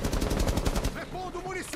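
Rapid automatic gunfire in Rainbow Six Siege, a fast close burst of shots that stops abruptly, followed by faint game sounds.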